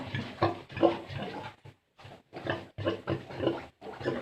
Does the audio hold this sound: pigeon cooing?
no